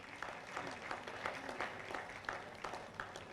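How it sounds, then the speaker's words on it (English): A conference audience applauds a panel, with scattered and fairly faint clapping heard at some distance, rising and falling in loose bursts. "Please, can we give our panel a round of applause?"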